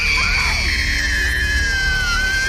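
A woman lets out a loud, sustained, high scream in a supernatural ghost story scene. It holds for the whole stretch, drifting slightly lower in pitch.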